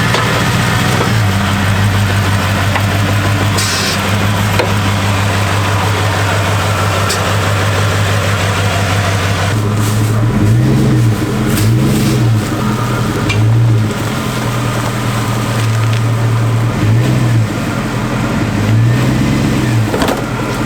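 Chevy Avalanche pickup engine running steadily, loud and close, backing up with a low idle drone that rises and falls in slow, repeated swells during the second half.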